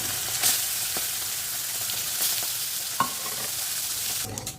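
Small fish frying in oil in a pan, a steady loud sizzle with a few sharp pops and spatters, heard close with no voices.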